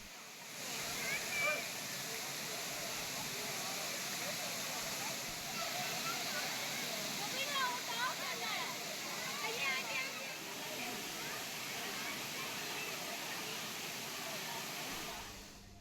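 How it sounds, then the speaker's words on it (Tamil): Thiruparappu waterfall, with tourists bathing in the falls: a steady, dense rush of falling water runs throughout, with faint voices and splashing mixed in. "திருப்பரப்பு அருவியில் அதிக நேரம் செலவிடும் சுற்றுலா பயணிகள் நீர்வீழ்ச்சியில் குளித்து மகிழ்கின்றனர்"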